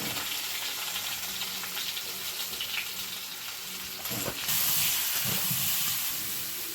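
Soybean chunks seasoned with turmeric and salt fry in a hot pan, giving a steady close hiss and sizzle with crackling bursts and a louder surge near the end, with no talking.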